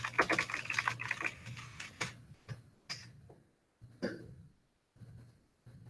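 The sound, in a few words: typing on a computer keyboard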